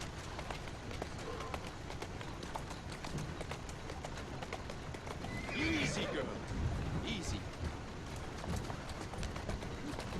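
Horse in Assassin's Creed Syndicate whinnies sharply around the middle, over a steady busy bed of game ambience and hoof clatter, with a voice talking throughout.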